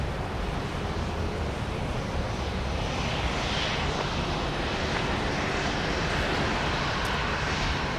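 A Boeing 737-700 jet arriving at Dallas Love Field produces a steady, broad roar of engine and rushing air, heard from a distance and holding at a constant moderate level without voices.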